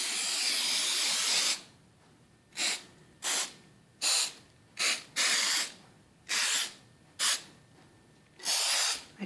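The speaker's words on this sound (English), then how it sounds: "Now I'm going to spray the pan." Cooking spray hissing onto a baking pan for banana bread, in about nine short bursts of varying length, loud and close, with quiet pauses between each spray and no talking.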